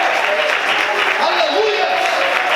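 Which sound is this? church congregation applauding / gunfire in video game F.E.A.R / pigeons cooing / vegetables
church congregation applauding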